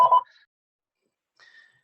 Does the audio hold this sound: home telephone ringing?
yes